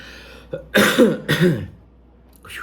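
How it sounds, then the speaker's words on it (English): Two harsh coughs in quick succession, close and fairly loud, with a softer throat sound trailing off afterward. "still got the cough"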